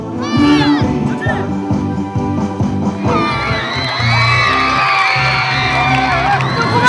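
A crowd cheers and whoops loudly during a family's taekkyeon martial arts performance, with shouting and children's voices over rhythmic background music throughout.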